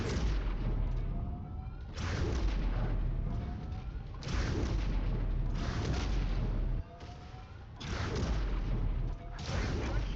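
Heavy weapons fire from combat mechs in the game MechWarrior 5, repeated booming bursts and crashes in several surges a couple of seconds apart, rumbling and fairly faint overall, with a target being destroyed.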